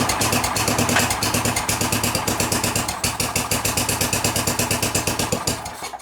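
A small snow blower engine runs with a rapid, even chugging pulse, held steady near the mic while the choke is adjusted to keep the finicky motor going.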